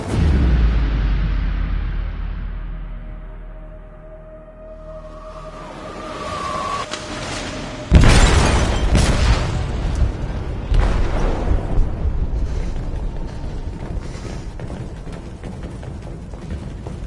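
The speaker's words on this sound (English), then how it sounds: "They detonated an explosive in the hold." An explosive detonates in a ship's hold in Detroit: Become Human, a sudden heavy boom after a low rumbling lead-in, followed by sustained roaring, crashing debris and rumble, loud and close with no speech.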